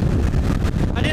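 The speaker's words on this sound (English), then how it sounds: "Wow, that's a lot of wind coming in." Wind rushes into an open-face Arai RAM-X motorcycle helmet with the visor up, a loud, steady low-frequency buffeting roar filling the entire moment, with no quiet gaps.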